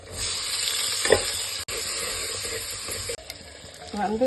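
Mustard seeds, asafoetida, green chili, onion and tomato fry together in hot oil, giving a dense close hiss with a few spatula knocks and a brief clatter near the end.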